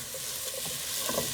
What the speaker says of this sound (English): you can hear the ham already sizzling up here